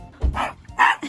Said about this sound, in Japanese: ラテ君はガルーが気になってしょうがないみたいですが、ちょっとガルーがね、吠えられまくってかわいそうなので、今回のキャンプでは完全に隔離してお届けしたいと思います。